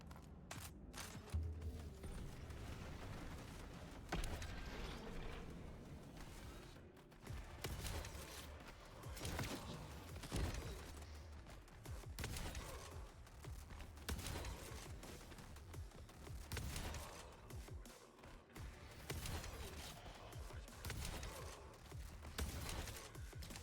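Gunfire from a shotgun in a video game demo rings out in repeated heavy blasts and mechanical clacks, layered over a dense, steady game soundtrack throughout.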